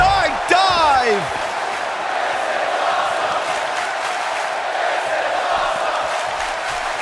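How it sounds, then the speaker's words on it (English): Wrestling event crowd cheering during a multi-person match, a broad roar of many voices sustained throughout, with a brief whoop or shout near the start and steady loud crowd noise after. "the crowd's on the edge of their seats"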